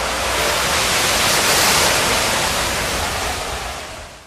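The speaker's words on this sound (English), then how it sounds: "Here, we are going to add 1 cup of water to a hot oil fire." A cup of water poured onto a burning hot oil fire erupts into a violent, roaring whoosh of flame, loud, broadband and sustained for several seconds before slowly easing off.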